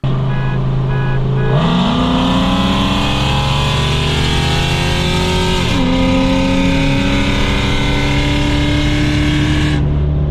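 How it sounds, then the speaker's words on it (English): Two Chrysler 300C sedans with 5.7 HEMI V8s, one fitted with long tube headers on a stock tune, race in a 40 mph roll, engines roaring loud and continuous with rising pitch and gear shifts. "Here's a 40 roll of my 300C with long tube headers on the stock tune-up against my buddy in his 300C."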